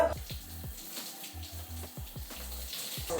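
Tap water runs steadily while gel is rinsed out of curly hair, a soft continuous splash with brief thumps and handling noises breaking through now and then.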